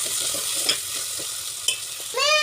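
Ginger-garlic paste being stirred into browned onions in a hot pan, a steady close sizzle with light spoon scrapes and a brief metallic clink near the end.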